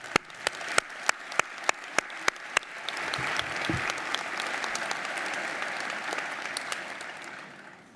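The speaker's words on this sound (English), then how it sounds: "can we have a round of applause for our research graduates today?" Graduation ceremony audience applauds research graduates: a few sharp, evenly spaced single claps open, then a broad wave of crowd applause swells and holds steady before slowly fading.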